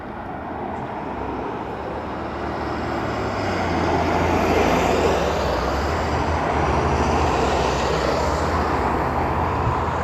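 An American Airlines airplane at Dublin Airport rumbles in the distance, its broad engine roar slowly swelling and then holding steady, with no voices.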